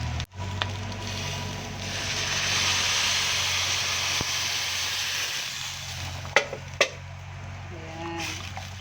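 Dinuguan sizzling in a pan as pig's blood is poured in with onion, garlic, taro and meat, a steady hiss of frying with a few sharp utensil clacks against the pan, close and moderately loud.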